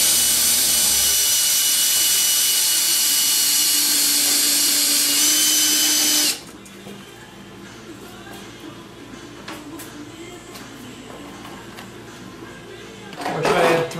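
A power drill driving 2.5-inch construction screws into rocks for a taxidermy habitat build, a loud continuous whirring whine for about six seconds that then stops abruptly, followed by quieter handling noise and a short burst near the end.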